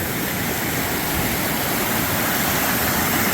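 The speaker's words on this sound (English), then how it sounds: "water just rushing down through." A small stream swollen after heavy overnight rain, its water rushing steadily downhill in a loud, continuous broadband roar close by, with no voices over it.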